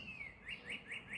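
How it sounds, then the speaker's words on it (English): A bird chirps a quick series of four rising whistled notes, clear and fairly near in a quiet outdoor setting. "You can hear the birds singing."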